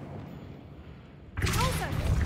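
The Incendio fire spell is cast in Hogwarts Legacy, bursting in abruptly after a low ambient hum as a loud, sustained rushing whoosh with whistling tonal sweeps.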